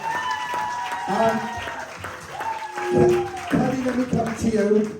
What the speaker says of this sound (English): Round of applause, guys, for them.